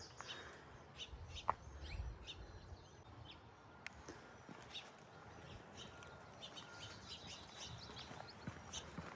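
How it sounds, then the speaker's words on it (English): Birds at Arcata Marsh in California, a wastewater treatment wetland: scattered faint chirps and tweets from several birds, some near and some distant, over a soft outdoor background with no talk. "There's so many birds."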